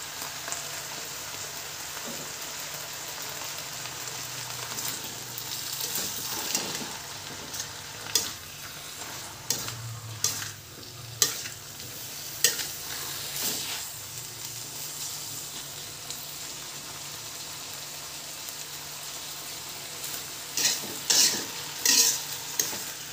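Celery and spring onion are stir-fried in a pan, with a steady sizzle under repeated scraping and clinking of a utensil against the metal, close and continuous.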